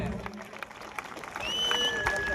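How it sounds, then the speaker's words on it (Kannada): An audience applauds a young drama-show finalist with a dense spread of clapping that swells slightly toward the end, joined by a voice and a few whistle-like tones. "ಅವಳಿಗೊಂದು ಜೋರು ಚಪ್ಪಾಳೆ ಬೇಕು"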